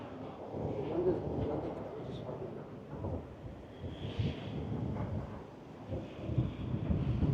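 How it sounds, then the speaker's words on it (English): Heavy wind buffets the microphone with a steady low rumble and gusty swells throughout, loud and close, with no clear voices, on a freezing winter evening walk in London near Tower Bridge. "It's very windy right now and it's freezing."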